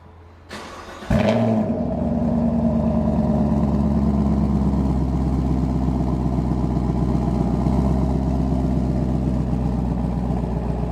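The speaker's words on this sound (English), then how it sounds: "It has dual exhaust system where it'll turn on it's a little louder when it starts and then it quietens down." A Chevrolet with a dual exhaust system starts remotely: a brief crank, then the engine catches with a loud flare before settling into a steady, rumbling idle that holds close and even for about ten seconds.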